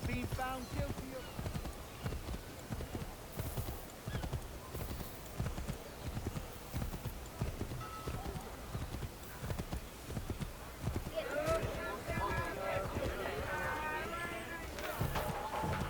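Horse hooves galloping in Assassin's Creed III, a steady rapid clip-clop running throughout, with a neigh or whinny rising near the end, all over a busy game soundscape.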